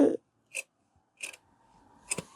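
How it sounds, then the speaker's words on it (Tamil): Tailoring scissors snip through shirt fabric in three or four separate short cuts spaced about half a second apart, close and quiet, with a faint voice at the very start. "இப்போ இதை கட் பண்ணி பார்த்துருவோம்"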